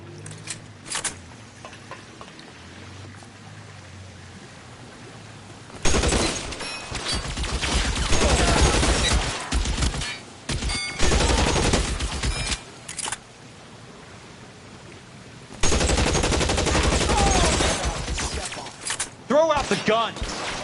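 Gunfire in the video game L.A. Noire, heard as two long stretches of loud, heavy shooting separated by quieter moments with scattered shots and game voices.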